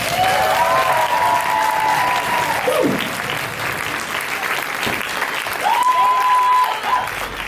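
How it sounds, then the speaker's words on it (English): A crowd applauds the Persian and Greek performers at a black belt martial arts demonstration, sustained, loud clapping and cheering with a sung or held vocal tone rising over it twice. "One last big round of applause for our fierce Persians and Greeks"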